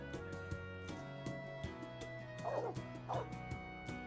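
A dog in the video game Trails Beyond the Horizon gives a series of small yips and whimpering barks, repeated at a steady pace over light game music, with no talk.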